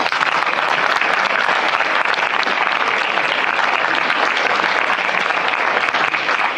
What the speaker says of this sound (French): il y a Nicolas Jamilon et on l'applaudit